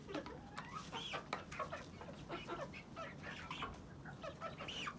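Several chickens, including a rooster, cluck and murmur softly in short, overlapping calls, close by and fairly quiet, with no talking.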